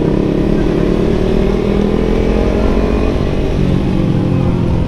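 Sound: Kawasaki Ninja 250 FI motorcycle exhaust revving

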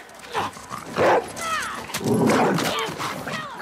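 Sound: dog barking in The Last of Us Part II video game

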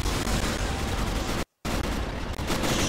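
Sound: gunfire in a military video game

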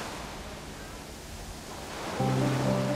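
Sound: sound of the sea waves

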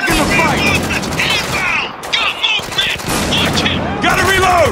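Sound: gunfire in the video game Spec Ops: The Line

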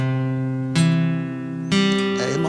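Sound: string instrument playing Star Spangled Banner measures 9 to 16

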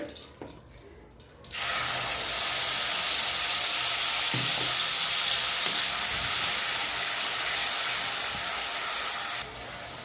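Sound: ginger, garlic and coriander paste frying in oil

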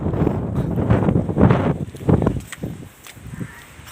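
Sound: wind blowing on a hilltop, wind noise on microphone

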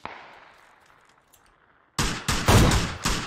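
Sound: gunshot in the PUBG video game

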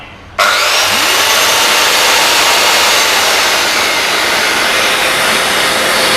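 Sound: Bosch GKS130 circular saw and dust vacuum running together

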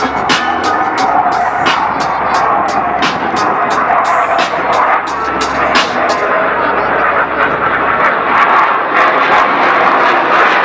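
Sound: HAL Tejas fighter jet flying past

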